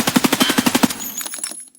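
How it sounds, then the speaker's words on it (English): Submachine gun sprayed on full auto in a video game, a rapid even burst of about a dozen sharp shots that trails off into scattered echoing tails. "I'm sure you've seen people spray guns a million times, so here we go"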